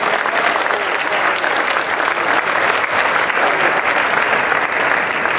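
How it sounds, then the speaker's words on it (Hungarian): Dense, steady applause from a large audience at a Christmas party, greeting a physiotherapist, keeps a loud, even roar for the full stretch with no gaps. "Mapocsai Sándor, nagy tapsot neki."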